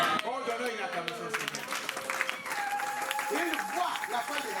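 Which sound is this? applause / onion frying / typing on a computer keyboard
applause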